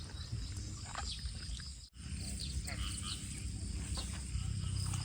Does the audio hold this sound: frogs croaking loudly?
yes